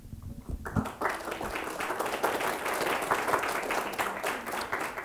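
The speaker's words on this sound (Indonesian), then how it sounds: "tepuk tangan dipersilahkan untuk kapan saja" Audience applause fills the hall at the final of a high school comparative literary criticism competition, a dense, continuous crowd of clapping that stays steady throughout.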